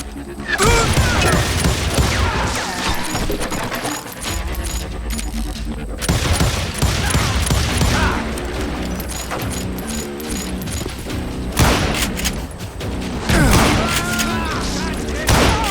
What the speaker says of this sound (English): I just kept shooting at anything I could see up in those damn rocks